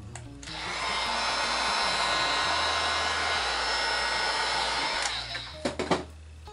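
A heat gun blows hot air steadily over a piece being heated for a baby shower charcuterie board keepsake, a loud continuous whoosh lasting about five seconds before cutting off, followed by a few brief clicks and knocks.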